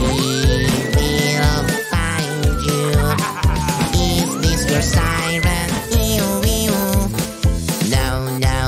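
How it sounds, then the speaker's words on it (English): A police siren wails in long rising and falling sweeps over loud, busy music with a heavy beat. "My police siren, help me please."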